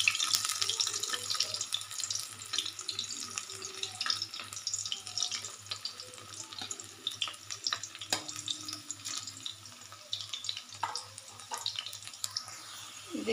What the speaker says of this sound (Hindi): इसको हम अच्छे से फ्राई कर लेंगे।